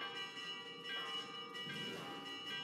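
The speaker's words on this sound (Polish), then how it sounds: "Przestań mi tu dzwonić, gość się tym dzwonkiem." A bell in Assassin's Creed Mirage rings in a sustained, resonant peal of overlapping metallic strikes and long decaying tones, steady and fairly distant, with no talk over it.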